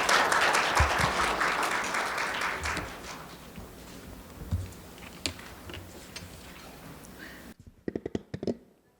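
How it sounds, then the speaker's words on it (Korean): Audience applauding at a Korean fisheries outlook conference session, a dense steady clapping that thins into scattered claps and fades near the end. "큰 박수 부탁드립니다"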